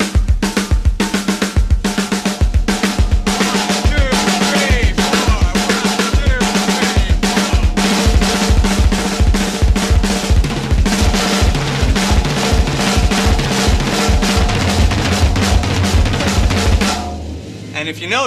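A double bass drum kit plays six-note and four-note 16th-note patterns in 4/4 time, with rapid, steady kick strokes under cymbals and toms. The playing is loud and close and continuous, with no talking.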